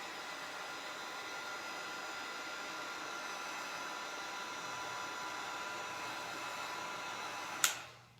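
A hair dryer blows steadily to dry chalk paint on a craft piece, a continuous broadband whoosh held near and loud for about eight seconds before cutting off with a brief click at the end.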